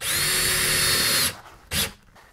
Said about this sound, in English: I'm just gonna drill this out and then slide the button through.